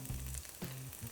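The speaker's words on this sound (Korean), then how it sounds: "달군 후라이팬에 기름을 좀 넉넉히 붓고 먼저 파 먼저 넣어서 파기름을 내겠습니다" Green onion dropped into generous hot oil in a preheated frying pan, sizzling and crackling steadily with a few stirring bursts, close and fairly loud with no talk.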